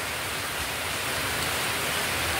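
Heavy typhoon rain pours down in a dense, unbroken hiss, loud and close, steady for the whole stretch with no voices.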